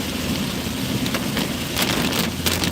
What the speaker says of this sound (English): I can't hardly see the road when the other car's coming, the way it's raining